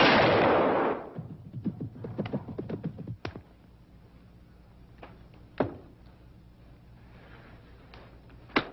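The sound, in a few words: hunting gunshot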